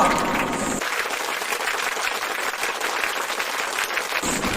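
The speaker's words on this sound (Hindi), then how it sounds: "जोरदार तालियां" Sustained applause from a large crowd, a steady dense patter of clapping that holds at an even level throughout.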